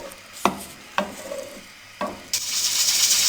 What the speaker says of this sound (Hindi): प्याजों को मीडियम फ्लेम पे हम हल्का ब्राउन करेंगे।